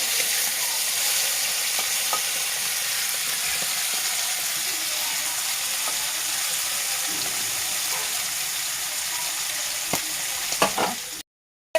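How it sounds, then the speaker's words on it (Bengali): A just-flipped fish fries in hot oil for a fish and banana curry, giving a constant close sizzle with occasional small pops and clicks before the sound cuts off abruptly at the end; nobody speaks. "এই পাশে মাছটা হালকা ভাজা হয়ে গেছে একটু পাল্টি করে দিচ্ছি"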